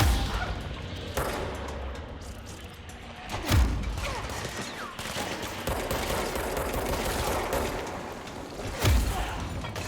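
Gunfire in the video game Control, with repeated shots and bursts over a steady dense background, several sharp loud impacts standing out near the middle and end, no talking.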